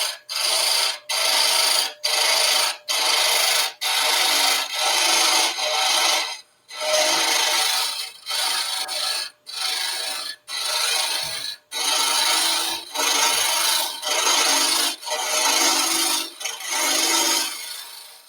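Carbide cutter hogging wood out of an internal surface in repeated loud, broadband scraping strokes of about a second each, separated by brief pauses, close and steady with no talking.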